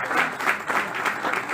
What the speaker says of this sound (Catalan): des d'ací li enviem un fort aplaudiment i un fort abraç